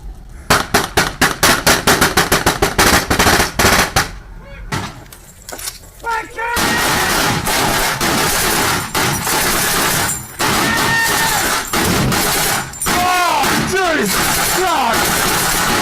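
Rapid bursts of machine gun fire crack out loud and close, a dense volley at the start, then a short lull before another sustained stretch of gunfire with shouting voices mixed in.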